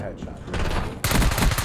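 Video game gunfire: a quick burst of rapid shots followed by a louder volley, close and sharp, with a voice talking over it.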